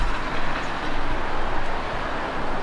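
Train rumbling at a station platform, a steady broadband roar with low rumble and faint rattling throughout, close and continuous without talk.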